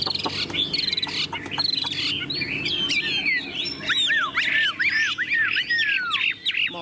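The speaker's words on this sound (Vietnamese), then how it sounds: "Chim thuần sách lồng con hót đây các bác này." A tame caged hwamei (melodious laughingthrush) with yellow bill and legs sings close by, a run of loud, varied whistled phrases and rapid chirps, building into sweeping melodious notes over a faint background hum.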